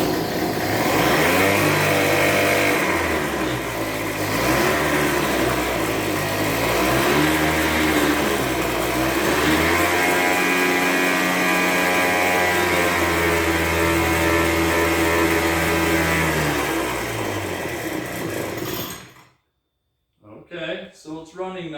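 A backpack leaf blower's small two-stroke engine runs steadily with the throttle locked on, loud and close with a buzzing drone that wavers slightly, then cuts out abruptly near the end, leaving brief faint sounds.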